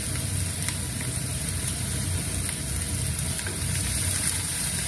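A paste of cumin, ginger and green chilli frying in a pan for a spicy fish curry makes a dense, even sizzle that holds steady and close, with faint scraping ticks and no talk.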